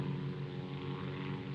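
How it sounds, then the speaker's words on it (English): A propeller airplane drones overhead in the war film Fear and Desire, a steady low engine hum with a rich buzzing tone, heard alone without voices. "they spot one of their planes"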